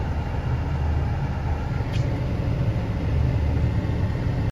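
A metro train rumbles past in a steady, continuous roar of rolling wheels and engine noise, close and loud, with no voices, in Mumbai.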